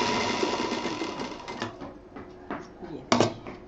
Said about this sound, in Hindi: इन दोनों को यहाँ ऐसे मिला के सिल देंगे मशीन से। कम से कम 3-4 मशीन चलाएंगे।